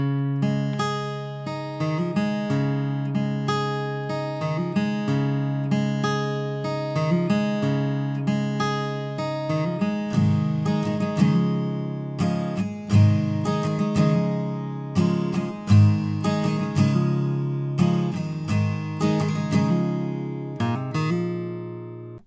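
Acoustic guitar plays chords with a hammer-on lick in a steady strummed and picked pattern, loud and close with no voices, part of an instrumental break from a song.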